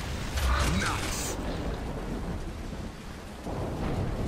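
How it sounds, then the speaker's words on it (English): Heavy rain and rolling thunder from a stormy outdoor level in the video game Gears of War 3, a steady loud downpour with deep rumbles throughout. "It's fucking stormy out here"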